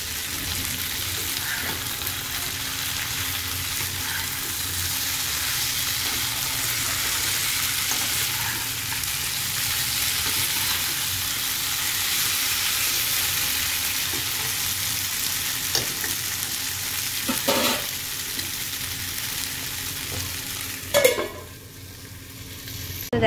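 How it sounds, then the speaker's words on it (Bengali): Spice masala sizzles steadily in a pan with pointed gourd, potato and prawns, a continuous close frying hiss broken by occasional scraping stirs and a louder clatter near the end, with no talking. "মশলাটা এখানে খুব সুন্দরভাবে কষানো হয়ে গেছে।"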